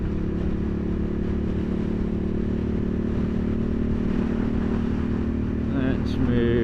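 Honda CB750 Hornet motorcycle exhaust droning steadily while riding on the road, a constant loud engine note with wind noise throughout.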